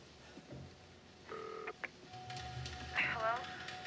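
A telephone rings on an outgoing call, giving a couple of short, faint tone bursts, then a brief chirp near the end over a quiet background.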